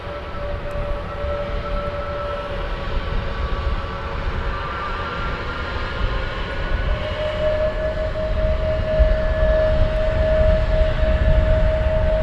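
Steady jet engine whine from an aircraft taxiing at Luton Airport in the early morning, a constant tone holding loud and level, swelling slightly near the end with broad rumble beneath, no talking.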